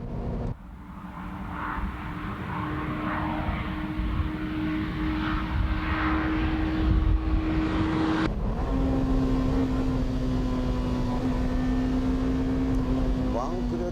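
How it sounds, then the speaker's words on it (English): A new BMW M3 at full throttle on a test track on a windy day, its engine holding a steady, loud drone that steps up in pitch after a gear change midway, continuous throughout with wind noise underneath. "Let's see how the car reacts at full throttle without slalom."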